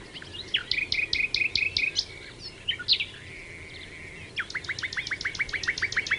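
Small birds chirp and call in bursts of rapid, repeated high notes, with a pause between phrases before another quick series, set against a soft background hiss.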